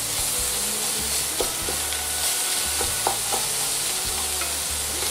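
Shrimp shells frying in a pan as the base for a bisque, a loud, continuous hissing sizzle broken by rhythmic scraping and stirring strokes and a few sharp taps, with no voices.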